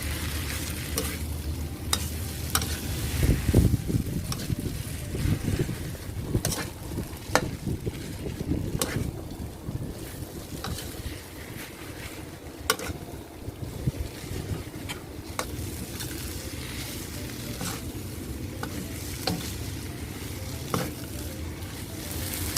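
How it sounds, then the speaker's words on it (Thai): Cha-om and glass noodles are stir-fried in a pan, a steady close sizzle with repeated scraping and clattering strokes of a utensil tossing the mixture, continuing throughout with no talking. "แล้วก็ผัดคลุกเคล้าให้ ชะอมเนี่ย สลบนะคะ ให้ชะอมสุกนะคะ แต่ไม่ต้องสุกมาก"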